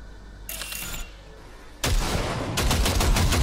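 Gunfire at targets in Cyberpunk 2077: a loud shot at the start of the first second, then a heavier volley that starts partway through and gets louder toward the end, with dense rapid reports near the end.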